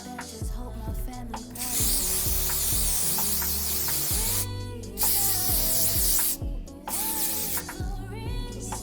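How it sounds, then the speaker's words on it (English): A continuous hiss of Got To Be hair spray lasting several seconds over steady background music, with brief pauses between bursts. "You're just gonna go in with the Got To Be spray."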